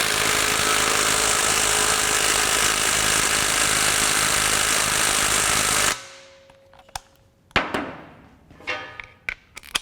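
A Milwaukee M12 FUEL right-angle impact wrench tightens a nut with six seconds of loud, continuous, close hammering, then stops abruptly, leaving scattered clanks and metal knocks in a quieter workshop.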